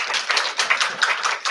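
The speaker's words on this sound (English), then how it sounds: "Let's clap." Applause from an audience at a staff gathering, a short burst of rapid, overlapping claps from a modest group, fairly close and steady, with no voices.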